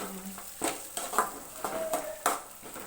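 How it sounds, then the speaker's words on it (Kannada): A spoon stirs turmeric powder into lemon rice gojju in a pan, giving a series of close scraping and clinking strokes with short pauses between them over a faint low sizzle. "ಇದಕ್ಕೆ ನಾನು ಕಾಲು ಟೀ ಸ್ಪೂನಷ್ಟು ಅರಿಶಿನ ಪುಡಿ ಹಾಕೋತಾ ಇದ್ದೀನಿ ಇವಾಗೆಲ್ಲವೂ ಚೆನ್ನಾಗಿ ಮಿಕ್ಸ್ ಮಾಡ್ತಾ"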